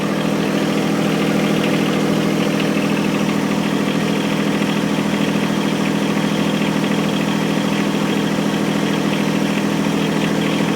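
A John Deere 1023E compact tractor engine running steadily at low RPM, a loud, continuous idle-like drone with even vibration throughout and no talking.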